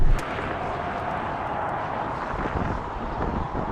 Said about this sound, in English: It's supposed to be aerodynamic, but I've got a lot of wind noise